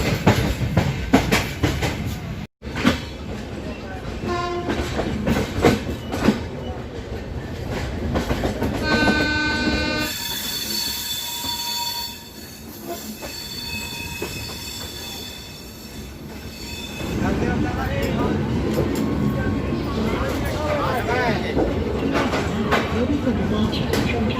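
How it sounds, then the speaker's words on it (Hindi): The Gorakhdham Express rumbles along its tracks with steady clickety-clack, squealing wheels and a blast of the train horn, loud and close from inside the coach, with voices talking at times. "हमारी ट्रेन पहुंच चुकी है न्यू दिल्ली रेलवे स्टेशन पे"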